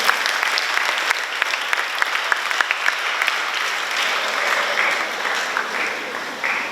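A graduation audience gives a sustained round of applause, dense clapping from a large crowd filling the hall at steady volume, with no voices standing out.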